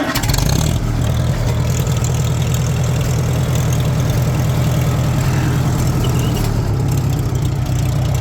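A tractor engine idles steadily and loudly up close, its low, pulsing chug running throughout without talk, though the beat is not perfectly smooth, in keeping with an engine that does not want to run right.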